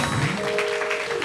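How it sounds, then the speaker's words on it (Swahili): A studio audience at a Kenyan comedy show applauds a guest, J Blessing, with a dense, moderately loud patter of clapping that runs through the whole moment. "Wapi makofi ya J Blessing tafadhali."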